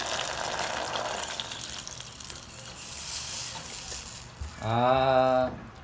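Water poured into a pot to dissolve chicken broth cubes for gravy, a faint trickle and splash that swells into a louder, steady gush near the end.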